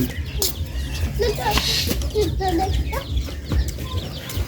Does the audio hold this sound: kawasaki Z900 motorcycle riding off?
no